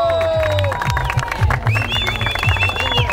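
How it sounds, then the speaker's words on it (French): Crowd applause and cheers at a race medal ceremony, scattered clapping and voices mixed with tonal music or announcer sounds throughout a short burst. "il nous faut pour cela les applaudissements du public"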